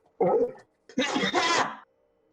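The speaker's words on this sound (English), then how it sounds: "I think it was a sneeze and a cough" Two close bodily bursts in a quiet room: a short explosive sneeze, then after a brief pause a longer, rougher cough.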